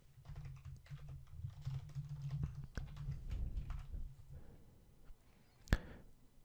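Fingers tap PHP code on a computer keyboard in quick, uneven clusters of clicks, close and quiet over a low hum, ending with one sharper key strike.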